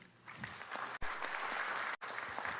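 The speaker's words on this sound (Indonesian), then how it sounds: "tepuk tangan dulu untuk grup C" An audience applauds a team at a provincial quiz competition final, steady close clapping broken by two brief cuts, dense and uniform with no speech.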